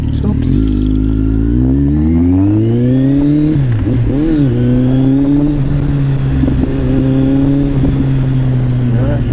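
A Kawasaki Z1000R motorcycle with an SC Project mid pipe exhaust revs loud and close, its engine tone rising steadily, dipping through a couple of quick blips, then holding a steady, strong drone.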